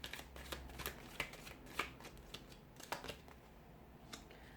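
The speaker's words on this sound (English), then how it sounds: "we'll give the cards a shuffle" Tarot cards riffled and shuffled by hand in quick, crisp bursts of papery flicks and taps, fairly close and quiet, with no talking.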